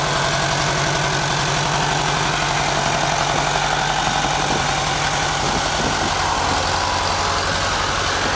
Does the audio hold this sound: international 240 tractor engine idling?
yes